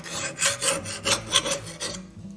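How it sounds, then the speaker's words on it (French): A flat file rasps across the edge of a lawnmower blade to remove the burr, about eight firm strokes in a steady rhythm, close and clear, with no talking. "Alors, vous prenez une lime plate."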